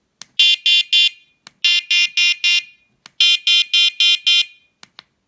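Carp fishing bite detector alarm sounding sharp, high electronic beeps in quick bursts of three to four, repeated several times and loud and close, with no talk.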